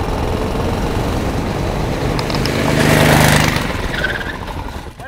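A modified small engine in a go-kart-style drag race roars loudly as it accelerates, swelling to a peak in the middle and fading slightly as it pulls away.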